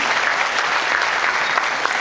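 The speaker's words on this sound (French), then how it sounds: "cet applaudissement était sympathique, mais il n'était pas assez fort, je trouve, pour véritablement remercier Mad" A crowd claps steadily and fairly loudly, a dense continuous patter of many hands throughout.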